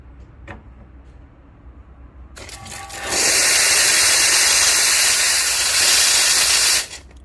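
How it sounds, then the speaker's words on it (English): A Lelit Mara X E61 heat-exchanger espresso machine purges its steam wand: after a few quiet clicks, a loud, sustained hiss bursts out and holds for about four seconds before cutting off abruptly. "So let's try to purge some of the steam and see how it goes."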